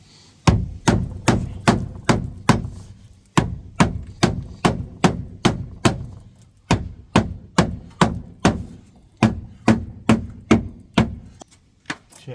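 Hammer blows rolling the wheel arch lips on a VW MK3 Golf, about thirty sharp thuds struck in steady rhythmic bursts with brief pauses between runs, close and loud with no talk.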